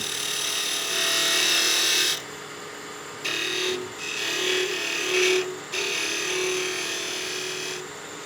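Skew chisel scooping cuts into spinning wood on a lathe, a loud hissing scrape in repeated strokes with short gaps between passes, heard close over the lathe's hum.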